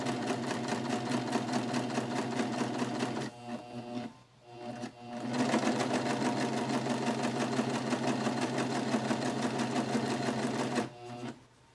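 A serger stitching flannel fabric around a curve, a fast, even mechanical whir close by that pauses briefly twice before resuming, with no talk.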